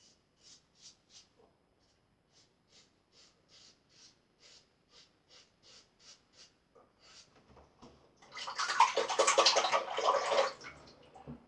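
A vintage British Rhodium Valet AutoStrop safety razor drawn against the grain across a face gives a run of short, regular, faint scraping strokes close by, followed by a louder burst of rinsing water.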